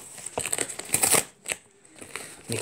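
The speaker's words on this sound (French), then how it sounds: "ça vous permet d'entendre ces jolis bruits de carton." Crisp crackling and tearing of cardboard in short bursts, with rustling and scraping between the louder rips, close by.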